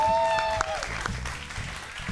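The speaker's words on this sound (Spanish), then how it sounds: "Un aplauso" An audience applauds at a Spanish-language improvisation show, a steady wash of clapping that fades gradually, with a voice and some musical tones over the start.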